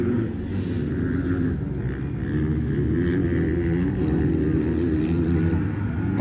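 A motorcycle engine runs in a continuous steady drone during a Rivera vs Planas race, a loud sustained roar with no pauses, heard from a fixed spot.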